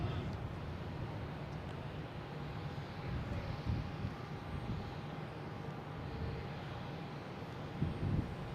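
An Alaska Airlines airliner on its takeoff roll at Boston Logan International Airport, a distant broad engine roar that holds steady and stays faint, with wind noise over the microphone.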